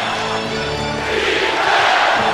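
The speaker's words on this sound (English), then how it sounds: "Crowd urging this end of the floor" A basketball arena crowd roaring for the Lakers during the fourth quarter of Kobe Bryant's final game, a dense sustained swell of cheering that builds toward the end.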